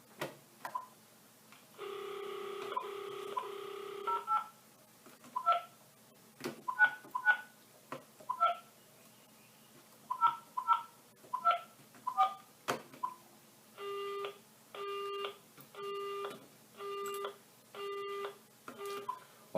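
A telephone is dialled with a short tone burst and a string of quick beeps and clicks, followed by a repeating engaged tone of regular evenly spaced pulses, heard close with no talking.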